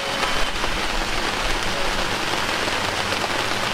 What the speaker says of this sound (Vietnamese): Hạt mưa nó cũng đã nhỏ lại chút xíu rồi.